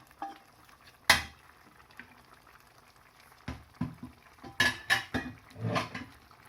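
A spoon clanks and scrapes against a pot as broiler duck curry is stirred, with several sharp knocks and scraping bursts over a quiet, faintly bubbling background.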